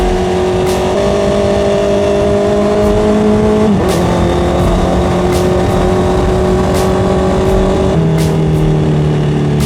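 A Honda CBR650R motorcycle engine hums steadily while riding downhill on a sloping road, holding a smooth, even tone with a couple of slight pitch drops, under constant wind rush.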